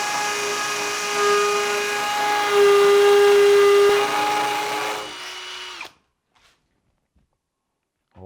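A power drill runs loud and steady for about six seconds, set to second gear, boring a hole into a wall for a plastic wall plug while fitting a household power socket, its whine rising midway and then cutting off into silence.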